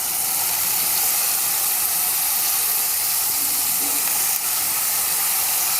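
Cut broad beans (val beans) dropped into a hot pan, giving a steady, loud hiss and sizzle that holds for several seconds with no one talking.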